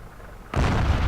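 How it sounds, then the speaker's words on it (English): A single heavy boom from the KV-2's 152mm cannon in World of Tanks, a sudden deep blast cutting in after a quiet moment and ringing out loud and close. "this video is all about the KV-2's fantastic 152mm derp cannon"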